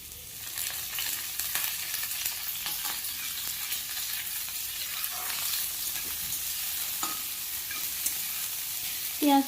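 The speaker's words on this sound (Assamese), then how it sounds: "পিঁয়াজখিনি ৰঙা হোৱালৈকে অকণমান ভাজি ল'ব।" Onions with chopped dried and fresh chillies sizzle steadily in hot oil as they are stirred, a continuous close frying hiss broken by soft scraping strokes and a brief louder clatter at the end; no one speaks.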